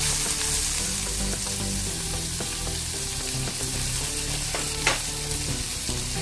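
Chopped onion fries in hot oil with asafoetida for a dal tadka, giving a loud, steady, close sizzle with small crackles and stirring scrapes throughout.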